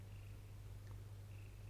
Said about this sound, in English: you can hear her purring through the microphone